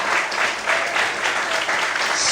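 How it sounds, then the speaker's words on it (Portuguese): A church congregation applauds during a sermon with dense, lively clapping that swells and eases in waves, filling the space at close range. "Você pode aplaudir ao Senhor?"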